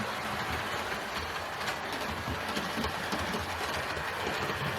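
A heavy Hornby model railway locomotive, Tornado, runs steadily along the track with a continuous motor whir and quick rhythmic clicking of wheels over rail joints, close and even throughout.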